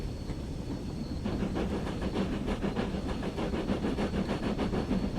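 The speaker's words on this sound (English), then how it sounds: "The safety valve is still going off. It goes off all the time." A Fowler 4F steam locomotive in Train Sim World, set on the West Somerset Railway with a freight working, blows off its safety valve in a steady, loud hiss beneath rhythmic engine chuffing, with no talk.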